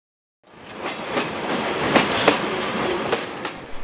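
An old-time wood-burning steam train rolls along on the rails, with a steady broadband rumble and rattling coach noise, punctuated by sharp periodic clicks and clacks from the wheels, loud and close throughout.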